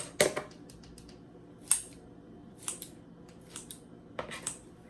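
Scissors snip through dry vermicelli noodles in a few sharp, separate cuts spaced across a quiet room, close and crisp.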